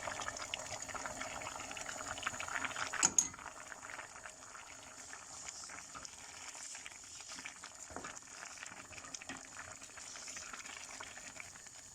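Bulgur pilaf with roasted meat simmers in a pot, giving a faint, steady bubbling hiss with one brief clatter near the start; quiet and close, no voices.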